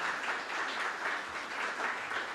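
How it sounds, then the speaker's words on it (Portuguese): Church congregation applauding in a worship service, a steady dense wash of clapping that holds evenly throughout without voices on top. "Se você concorda, aplauda o Senhor Jesus"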